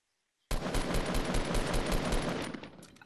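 Rapid automatic gunfire in the battle royale game Fortnite, a loud sustained burst of shots for over two seconds after a brief silence, then trailing off before another sharp report at the end.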